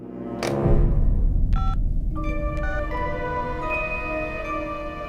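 A few electronic keypad tones beep in quick succession, as if dialing a phone, over a low background rumble.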